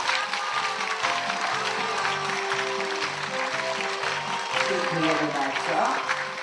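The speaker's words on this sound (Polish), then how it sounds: "Wielkie, wielkie brawa!" An audience at a theatre competition applauds a performing troupe, a steady wash of clapping at moderate distance with music or voices running underneath.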